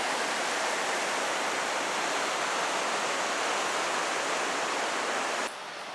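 A river rushes through Cimarron Canyon in Colorado, giving a steady, dense roar of flowing water that holds constant and close. The level drops slightly just before the end.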